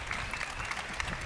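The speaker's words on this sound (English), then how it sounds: "Please, a warm round of applause." Warm round of applause from the audience at the Bitcoin 2024 conference in Nashville: dense, steady clapping that fills the hall briefly, with no pause.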